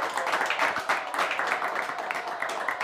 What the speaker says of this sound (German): Deshalb einmal bitte einen Applaus hier in die Runde für dich